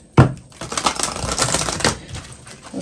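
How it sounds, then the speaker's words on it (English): A tarot card deck being shuffled by hand, a continuous dry riffling and rustling of cards that runs for about two seconds after a sharp start, close and moderately loud, with no talking. "and shuffle this one as well."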